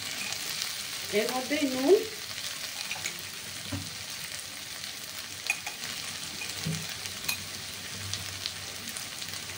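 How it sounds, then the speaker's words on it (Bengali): Fish biryani masala with katla fish being sautéed in a pan, a soft steady sizzle with occasional stirring scrapes and taps, faint and close, while someone speaks briefly. "এবার কিছুক্ষণ এটাকে নিয়ে ভালো করে কষিয়ে নেব।"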